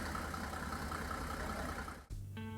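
A Mercedes W124 four-cylinder 200D diesel idles with a steady, rhythmic knock, heard close and alone for about two seconds before a brief dropout.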